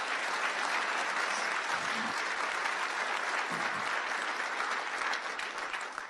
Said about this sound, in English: how about a round of applause for our great senior councilwoman, Dorothy Gooseby.